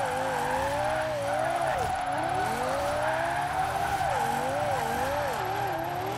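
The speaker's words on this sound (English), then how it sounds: "Oh, I could listen to this car all day. It sounds so good." A Lexus LFA sports car engine in Forza Horizon 4 revs continuously, raspy pitch sweeping up and down through gear changes, with tires squealing under the loud, steady engine roar.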